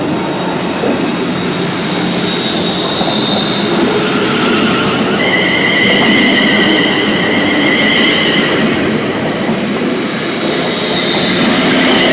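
A train rumbles loudly and steadily, wheels clattering on the rails with a high metallic squeal, as it slows into a station.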